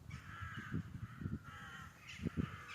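Hooded crows in a garden or park setting give several harsh, rasping caws, spaced out over a couple of seconds with one sharper pair near the end, against faint outdoor ambience.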